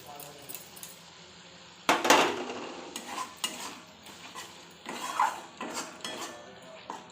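Spices being stirred and sautéed in a pan with whisked sour yogurt while making a pointed-gourd dish, sizzling under repeated loud scrapes and clinks of a spoon against the pan.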